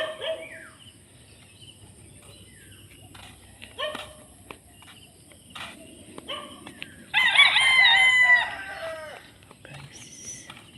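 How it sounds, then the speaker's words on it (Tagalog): Fighting-cock hens cluck and squawk intermittently, and a rooster crows loudly partway through against a quiet outdoor background. "Ang dami na ng manok nila."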